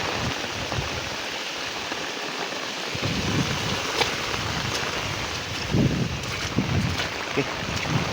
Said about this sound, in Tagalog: So lakas ng tubig pala dito.